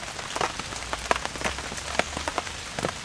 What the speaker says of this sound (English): some kind of constant downpour like this